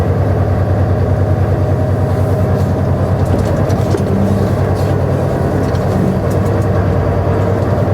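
A truck's engine drones steadily while driving, a continuous low rumble of road and engine noise filling the whole stretch with no talk.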